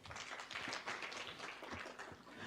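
Applause from the audience at a future-of-work summit: a continuous wash of many hands clapping, steady and fairly distant, with no voices standing out.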